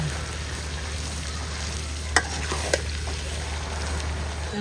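Raw jackfruit frying in oil in a pan, a steady soft sizzle running throughout with a couple of brief clinks from stirring, no one talking.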